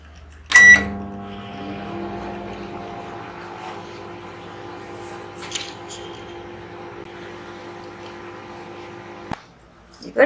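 A microwave oven cooking vegetable curry gives off a steady low electrical hum for several seconds, opening with a click and ending with a thud of the door or button, with speech nearby.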